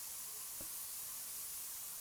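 Steady broadband spray hiss from the spray tool in Spray Paint Simulator, a painting video game, runs continuously and evenly at moderate loudness for the whole stretch, with no talk over it.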